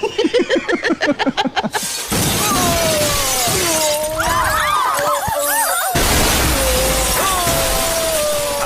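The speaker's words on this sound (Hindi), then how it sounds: "कुछ बंदे लोग घर की दूसरी मंजिल से कांच तोड़ तोड़ कर नीचे गिर रहे होते हैं" Glass windows shatter as men crash through them from a house's second floor in a South Indian action film fight scene, a burst of rhythmic smashing followed by sustained loud effects and swooping tones.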